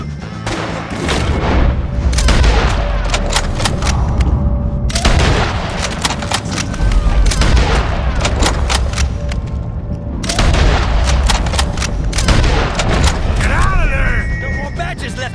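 Gunfire against O'Driscoll gang members in Red Dead Redemption 2: dense, loud volleys of rapid shots in three bursts with brief pauses between them, under shouted character dialogue.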